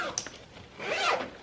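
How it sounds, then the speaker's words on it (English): A zipper on a bag rasps open or closed close up, a short tug followed by a longer smooth pull. "They added a zipper here."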